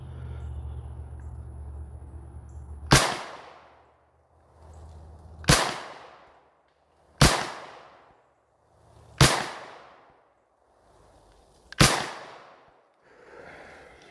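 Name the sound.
gunshots from Manchester Arms Mini Commando Mark 45 gun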